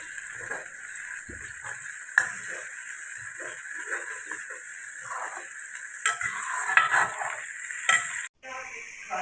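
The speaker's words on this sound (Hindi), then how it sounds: "पेस्ट शामिल करने के बाद हमने फ्लेम थोड़ा हाई करना है और इसको अच्छे तरीके से भून लेना है" Chicken kofta paste fries over a high flame, a continuous sizzle and hiss with occasional spatula taps and scrapes against the pan as it is stirred.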